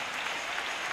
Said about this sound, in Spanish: Denle ese aplauso a Cristo.